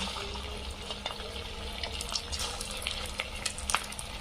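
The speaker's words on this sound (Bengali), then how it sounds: "তেল গরম হয়ে গেছে, এবার আমি বলের আকৃতি গোলাপ জামুনগুলো দিয়ে দিব।" Semolina gulab jamun balls fry in hot white oil, giving a steady broadband sizzle with a few small pops and crackles near the close.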